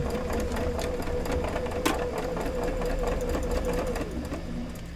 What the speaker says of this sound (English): I'm going to go ahead and sew on that back side over here at my needle line is where this is going to go